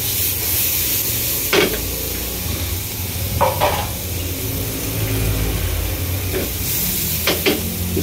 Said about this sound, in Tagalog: Siyempre, gigisahin din natin itong sibuyas.